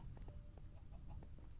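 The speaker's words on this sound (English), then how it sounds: "Hello, chickens. Have you any eggs for me?" Minecraft chickens cluck softly in short, scattered clucks over a low background rumble, faint and moderately close, with no talking.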